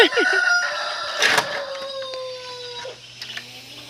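Chickens cluck and a rooster-like crow rises among other bird calls, close and lively, with some rustling and brief noises in between.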